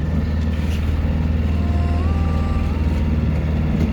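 Steady, loud drone of a sailboat's inboard engine as it motors at low wind toward an anchorage in the Mediterranean off Porquerolles, a continuous low rumble with constant throb throughout, no voices.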